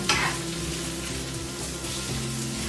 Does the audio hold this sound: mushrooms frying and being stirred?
yes